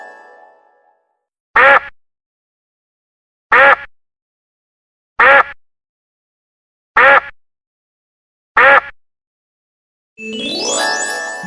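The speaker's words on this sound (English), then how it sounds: "Duck." A duck quacks five times in short, evenly spaced calls, each one alone against silence, followed by a bright chime at the end.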